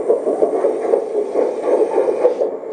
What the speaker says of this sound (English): Here's the engine sound